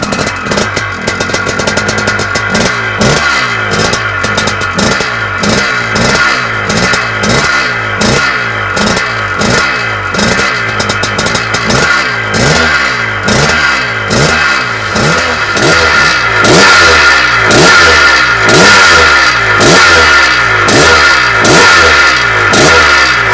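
Classic restored motocross dirt bike engine running close and loud, blipped in rapid repeated revs with a crackling two-stroke-like rasp, the revs growing fuller and more sustained toward the end.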